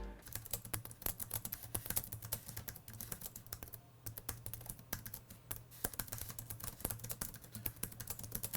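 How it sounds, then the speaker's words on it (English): Quiet, rapid typing on the low-profile silent switches of an Intel NUC X15 laptop keyboard, a steady run of soft close-up clicks with no talking. "even these really silent switches, which sound like this"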